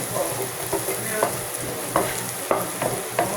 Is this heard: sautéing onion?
yes